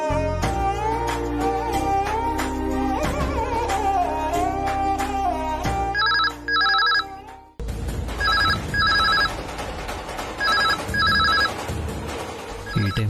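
A telephone rings in a domestic drama scene, its repeated bursts of electronic bell tone cutting in over background music, loud and close in a regular double-ring rhythm.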